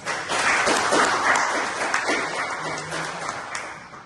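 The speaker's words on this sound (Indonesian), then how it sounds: "Dulu berikan tepuk tangan." A class of students applauds in a classroom, a dense continuous patter of clapping at moderate level that slowly tapers off.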